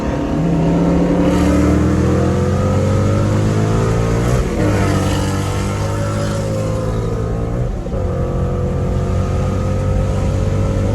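A road-racing car engine revs hard through rising acceleration sweeps with gear shifts, loud and close for the whole stretch.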